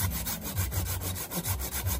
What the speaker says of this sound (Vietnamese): cái này cưa mình cưa nửa tiếng là đứt rồi đó